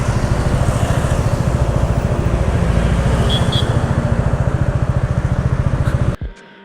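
A Royal Enfield Meteor 350 Supernova motorcycle, a 2021 model, idles nearby with a steady, even thump that runs continuously until the engine cuts out abruptly near the end.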